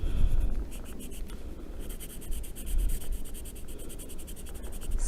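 Colored pencil shading and blending on paper gives a close, continuous scratchy rasp of repeated quick back-and-forth strokes, steady and alone without talk.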